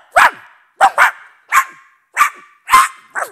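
A fierce dog barks about six times in sharp, loud bursts, some doubled, close to the listener, with no voices.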